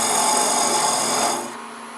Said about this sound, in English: Let's go ahead and part that off with a thin parting tool